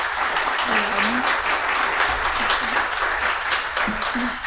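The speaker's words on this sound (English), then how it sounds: "A round of applause for our panelists." An audience applauds panelists after a talk on games in museum exhibits, giving steady, moderately loud clapping in a small room, with faint voices under it.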